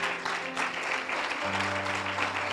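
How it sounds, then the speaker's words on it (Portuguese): A church congregation applauds during a Portuguese-language worship service, a steady broadband wash of clapping that fills the whole clip, with faint sustained tones from instruments or voices beneath it. "dá um aplauso ao Senhor"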